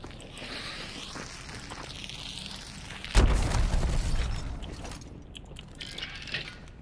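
A bomb blast in Hunt: Showdown, a single heavy boom at mid-clip with a deep rumble that fades over a second or two, preceded by quiet ambient game noise and a few faint clicks.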